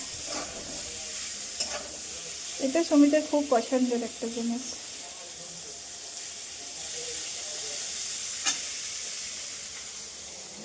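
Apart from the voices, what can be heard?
neem leaves and potato frying in a pan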